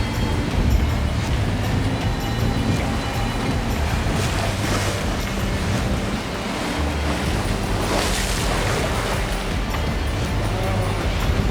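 A boat engine drones steadily beneath the constant wash of waves and a south wind near an anchorage, loud and unbroken throughout.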